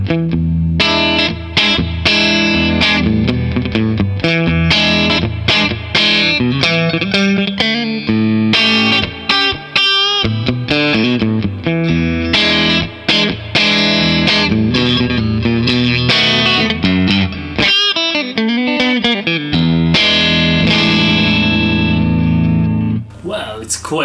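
A Fender Custom Shop '57 Stratocaster on its middle pickup plays through heavy distortion, giving a loud, continuous run of driven chords and notes with some effects.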